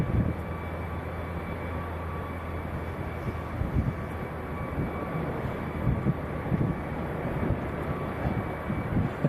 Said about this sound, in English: There's a helicopter about to hop up any second.